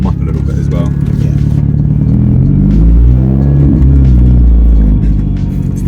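A Nissan Pulsar GTiR's four-cylinder engine rumbles loudly at close range, its deep, throbbing note swelling briefly as it revs, while people talk over it.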